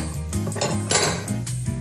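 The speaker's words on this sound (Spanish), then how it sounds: "ahora acá en una olla de fondo grueso voy a poner una taza de agua" A heavy-bottomed pot knocked and set down on a stovetop while making profiteroles, with several close metallic clanks and clinks in quick irregular succession.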